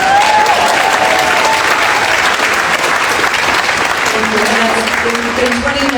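Loud, steady audience applause fills the room at the Harvest of the Heart 2024 event, continuous and close for the whole stretch, with a voice faintly audible through it.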